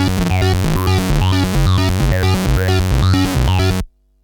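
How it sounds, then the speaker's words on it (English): Modular synth playing a busy, looping sequence built from single-cycle wavetable waveforms, with shifting pitched tones and sweeping timbre over a steady pulse, loud and close, cutting off abruptly near the end. "I'm going to make a sound on my modular synth with lots of movement and motion in it."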